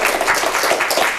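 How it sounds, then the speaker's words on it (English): A conference audience at a CloudStack user group in London gives a brief burst of dense applause lasting about a second. "Actually, give Paul a round of applause"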